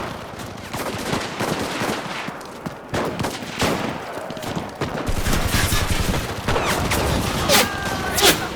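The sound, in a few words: gunfire in the video game Enlisted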